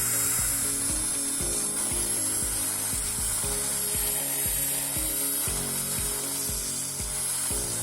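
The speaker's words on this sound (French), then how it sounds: "Pour parfaire la finition, nous meulerons bien tout autour." Continuous grinding from a rotary tool working around drilled holes in a homemade camera trap cover, a steady rasping whine with regular pulsing strokes and no speech.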